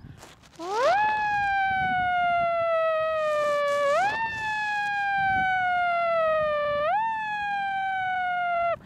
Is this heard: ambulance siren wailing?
yes